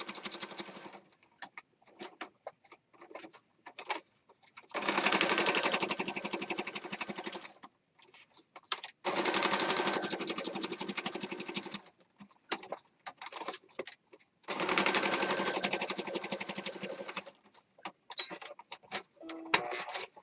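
A sewing machine stitches mixed media collage pieces in three sustained bursts, with clicks and handling noises between runs, close and fairly loud.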